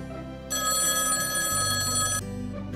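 An incoming call sets off a loud electronic telephone ring, a steady bright tone held for about two seconds with no voices over it.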